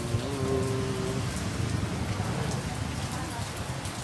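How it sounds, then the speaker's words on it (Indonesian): Heavy rain pours steadily onto a surface in Bandung, a dense, continuous patter that stays close and loud throughout, with a low background hum near the start. "setiap hari hujan."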